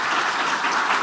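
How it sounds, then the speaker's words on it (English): Brief burst of audience applause for young presenters at an AI event, a dense, close wash of many hands clapping over about a second. "So just another round of applause for them"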